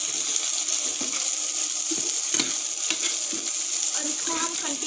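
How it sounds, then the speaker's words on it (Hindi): Onions and chili flakes fry in a pan while being mixed, with a steady bright sizzle and repeated soft scraping strokes of a spoon, close and continuous. "अब हम इसमें अनियन डाल देंगे और इसको मिक्स करेंगे"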